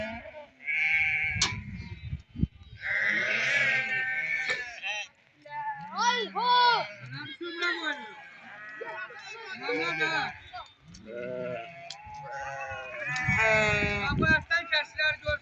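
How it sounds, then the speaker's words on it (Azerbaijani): Lambs and sheep bleat repeatedly at a livestock market in Barda, with many overlapping calls, some near and loud and others farther off, amid brief animal shuffling. "Quzularına baxın, iki quzular var."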